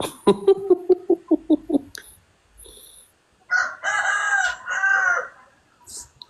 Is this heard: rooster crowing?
yes